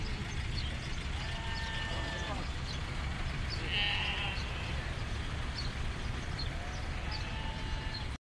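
Sheep bleat repeatedly at a large livestock market in Buraydah. Several wavering calls, some near and some farther off, rise over a constant crowd murmur with voices in the background.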